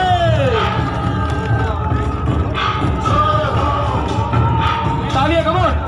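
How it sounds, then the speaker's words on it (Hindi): A crowd at the start of an 11 km men's and women's race at Palika Stadium, Kanpur, cheers, whoops and yells continuously for the city commissioner. The sound is loud and steady, with shouting voices rising above the roar. "चेयरमैन कमिश्नर सर के लिए तालियां हो जाए।"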